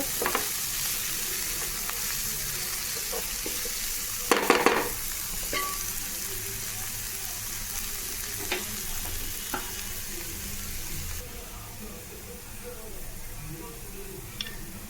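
Aloo samosa filling being stirred in a hot pan, with a steady sizzle and frying crackle throughout and a brief scraping burst of stirring near the middle.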